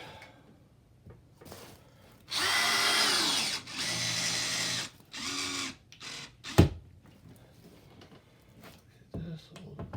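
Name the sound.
screwdriver driving screws into wall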